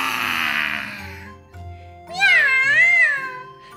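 A cat meowing as a sound effect in a told children's story, a noisy hiss first, then two clear, drawn-out rising and falling meows, loud and close.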